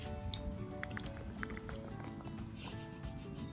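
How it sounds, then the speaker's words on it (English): Water gently squirted into a bowl beside a drawn stick figure for a kids' craft, soft close dripping and liquid trickling with faint squishy splashes, quiet and continuous with no talking. "gently pour or squirt your water right beside and not directly on your stick man"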